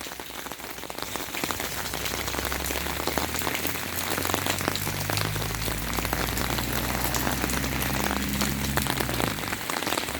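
Heavy rain pours steadily throughout in a village, a dense hiss of drops drumming on a surface, with a low rumbling hum underneath and no voices.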